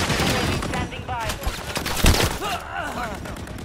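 Scattered gunshots and short bursts from Call of Duty: Modern Warfare 3 (2023) multiplayer, mixed with a heavy thump near the middle, while voices and radio chatter run over the top throughout.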